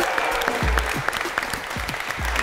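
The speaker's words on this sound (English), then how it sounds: "Big round of applause" Audience applause at a fitness challenge event, steady and moderately loud, with overlapping claps and a few whoops or raised voices mixed in.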